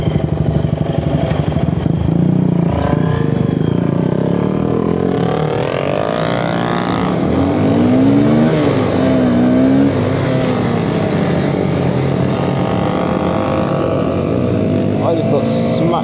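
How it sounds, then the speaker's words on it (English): KTM motorcycle engine revving at a group ride, a steady loud engine drone with rising and falling rev sweeps, other bikes and voices mixed in throughout. "Well, that sounds like a KTM."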